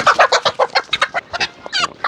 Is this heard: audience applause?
no